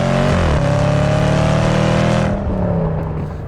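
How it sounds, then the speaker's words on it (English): Loud, sustained engine roar and exhaust note from a 2019 Range Rover Sport SVR accelerating hard, with a shifting pitch near the start and sound tapering as it fades after a few seconds. "the exhaust sound is arguably the best I've ever heard"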